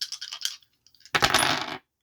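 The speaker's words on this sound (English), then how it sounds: "So, I'm going to roll 3d6." Three six-sided beer dice rattle together and clatter to a stop on a hard surface in one burst of about half a second, following some faint shaking clicks.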